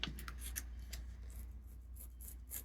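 Scissors snip and slide along the folded seam of a paper envelope, a series of short crisp cuts and light rubbing strokes, close and quiet with no talking.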